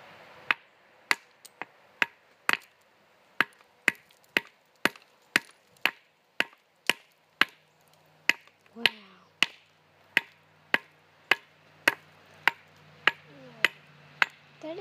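A hammer strikes river concretion geodes in a steady series of sharp, loud cracks roughly every half second, with faint talk and a low hum partway through.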